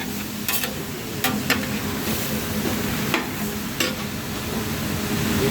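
Ground beef frying in a pan for bolognese, a loud continuous sizzle with occasional clicks and scrapes of a spoon stirring the meat, no voices.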